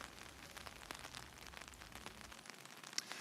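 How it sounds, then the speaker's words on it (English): Rain patters steadily on an umbrella outdoors in Flagstaff during a storm, a soft, dense crackle of drops with scattered louder taps, faint and continuous. "And Kyle, I can hear the pitter-patter there on your umbrella."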